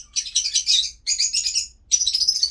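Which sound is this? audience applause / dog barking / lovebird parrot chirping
lovebird parrot chirping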